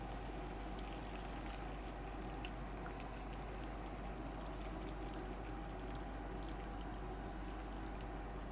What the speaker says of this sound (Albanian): I hedh prap pak ujë.